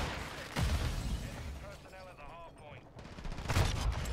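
Two sharp, loud sniper rifle shots crack out about three seconds apart in Call of Duty: Modern Warfare II, over a busy background of game sounds.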